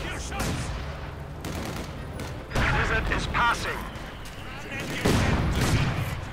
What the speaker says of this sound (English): Panzerabwehrkanone, fire frei.